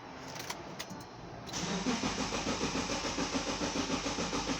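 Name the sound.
2010 Subaru Liberty engine cranking but not starting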